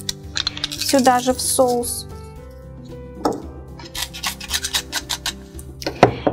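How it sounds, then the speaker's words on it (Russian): Two garlic cloves being crushed give short gritty rasping and crunching bursts, close and moderately loud, between and after brief spoken remarks. "Теперь мы раздавим 2 дольки чеснока."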